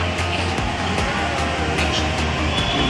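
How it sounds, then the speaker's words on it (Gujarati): Metro train at a Mumbai station, a steady loud rumble and hum filling the platform with faint repeated clicks of wheels over rail joints, no talk over it. "આપણે મેટ્રો ટ્રેન આવી ગઈ છે"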